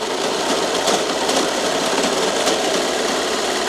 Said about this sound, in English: I'm about to get the tiers and gather them on my serger